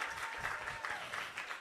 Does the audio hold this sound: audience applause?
yes